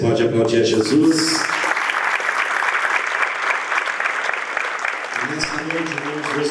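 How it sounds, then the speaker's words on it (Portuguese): Church congregation claps in loud, sustained applause, a dense ovation filling the space, with a speaking voice briefly heard before and after the clapping. "Você pode aplaudir a Jesus?"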